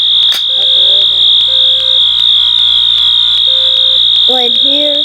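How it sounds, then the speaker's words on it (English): A building fire alarm blares a loud, unbroken high tone throughout, joined by short repeating honk-like tones from other alarm devices in the system. "I'm just gonna keep the fire alarm on"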